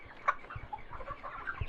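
Chickens on a poultry farm give scattered soft clucks and short calls at low volume over a steady shed background.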